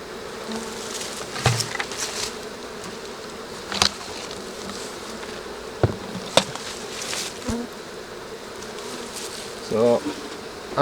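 Honey bees buzz around an open hive during a swarm-cell inspection, making a dense continuous droning hum with occasional close passes, plus a few knocks and taps from hive handling.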